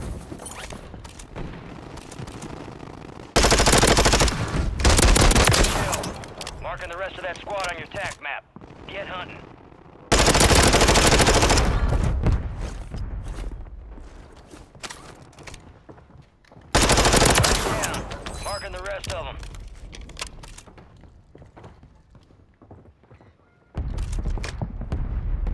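Video game gunfire from Warzone 3 comes in repeated loud automatic bursts with heavy booming impacts, separated by quieter gaps of background battle noise.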